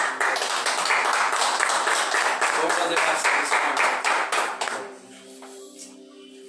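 A church congregation claps along in steady, rhythmic unison, the sharp hand claps loud and continuous under a voice, then they stop abruptly near the end as the sound drops to quiet murmuring.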